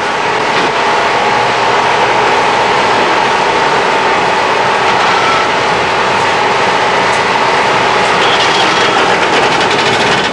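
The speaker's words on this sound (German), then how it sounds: "Rund 20 Zweitakter wurden gleichzeitig geprüft." Some twenty air-cooled 600 cc two-stroke Trabant engines, 26 hp, run together on a factory test stand at about 2000 to 3000 rpm. They make a loud, steady, dense buzzing drone that never pauses.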